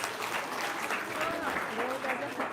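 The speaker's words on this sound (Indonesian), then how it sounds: "Tepuk tangan dulu dong." An audience at a seminar claps in a steady, even round of applause that fills the whole stretch, with a voice briefly heard over it.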